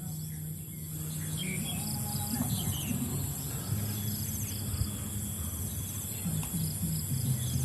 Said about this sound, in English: You can still hear the crickets and everything in the background.